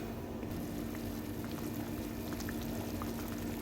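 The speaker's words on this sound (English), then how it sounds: "Now it's simmering, and again, just about 2 minutes and we are good to go." Jamaican jerk seasoning simmering in a pot on a flame, a steady close bubbling with small pops and a faint constant hum underneath, no voices.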